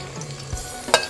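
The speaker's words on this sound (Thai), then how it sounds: "พอน้ำมันเดือดก็ใส่กระเทียมลงไปนะคะ" Garlic sizzles in hot oil in a frying pan while being stir-fried with sweet preserved radish and egg, a near, busy crackle broken by a few sharp clatters of the spatula on the pan.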